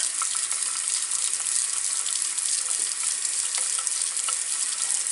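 Tap water runs steadily into a sink during handwashing, a continuous bright hiss and splash lasting the whole stretch with no talking.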